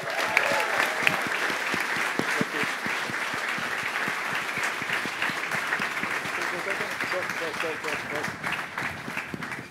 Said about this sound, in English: One more round of applause, y'all.